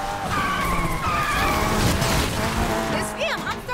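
Car tires skid and squeal as the brakes lock up in the racing game NFS Unbound, a loud, continuous screech with engine noise and brief upward tire chirps near the end.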